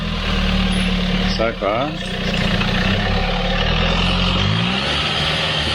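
A Toyota Hilux engine runs steadily at close range, its low drone holding throughout with a brief dip and a rising tone near the middle, while people talk over it.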